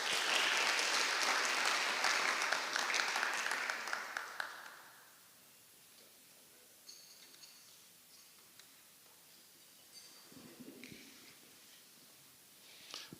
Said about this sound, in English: Another applause for PS,